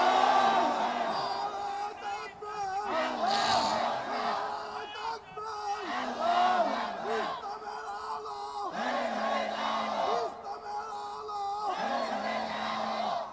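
A large crowd at a Bangladeshi waz gathering shouting takbir in unison, loud rhythmic group chants answering a leader's calls, repeated several times in a steady pattern.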